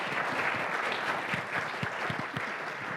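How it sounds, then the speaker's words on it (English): An event crowd applauds in a dense, continuous patter of claps at moderate distance, holding steady from start to finish with no talking. "let's clap it up for our"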